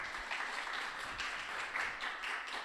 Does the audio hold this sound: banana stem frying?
no